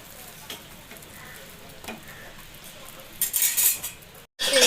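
A spicy bread omelette fries and sizzles in a pan with a steady crackle, followed by a louder burst of sizzling as it is flipped, then a brief silence and the sizzle returning.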